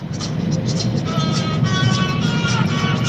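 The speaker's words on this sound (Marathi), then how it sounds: "ट्रॅफिक जाम झालेला आहे खालून येणाऱ्या गाड्या आणि वरून जाणाऱ्या गाड्या" A steady roar of traffic from cars and other vehicles stuck in a jam on the narrow Ooty ghat road in Tamil Nadu, with continuous engine rumble and no clear breaks, loud and close throughout.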